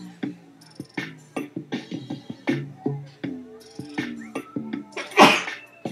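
A woman sneezes once loudly near the end, after a run of voiced sounds and chatter, close and sharp against an indoor background.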